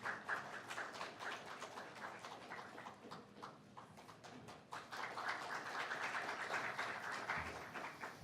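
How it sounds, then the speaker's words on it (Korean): An audience at a forum's launch ceremony claps loudly and steadily, welcoming a speaker to the stage, the clapping dense and continuous with sharper claps standing out. "여러분 뜨거운 박수로 맞이해 주시기 바랍니다."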